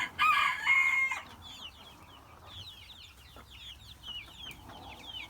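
Chickens cluck and chirp in a backyard coop alongside newly arrived quail, with a rooster's loud crow at the start, then a stream of close, quieter clucks and peeps. No voices.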